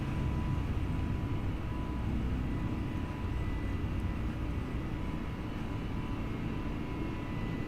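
An A32NX airliner takes off from Auckland in a flight simulator, its engines producing a steady, broad rumbling roar that holds evenly throughout with no talk.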